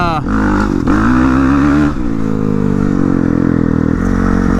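A 450cc Suzuki RM dirt bike ridden on urban trails, its engine revving loudly and steadily close by with rising and falling pitch, while a rider talks over the motor throughout.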